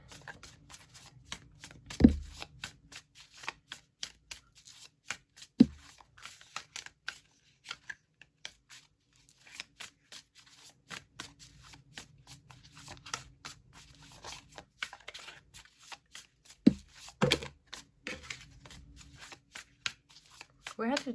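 Tarot cards being shuffled and handled in bursts of soft riffling and slapping, with a few louder thumps, close and fairly quiet, under intermittent talk.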